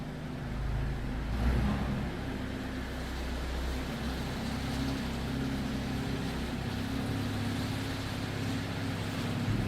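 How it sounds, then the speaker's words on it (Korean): A Genesis GV70 engine fires up with a brief swell, then settles into a steady, low, even idle hum that continues without interruption. "시동을 걸었습니다."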